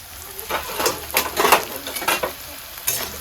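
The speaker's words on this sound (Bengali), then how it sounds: "আমি প্রথমে পেঁয়াজটা ভালো মতো ভেজে নেব" Onion fries in a pan, heard as a close, loud sizzle with repeated bursts of scraping as a spatula stirs it in a quick, uneven rhythm.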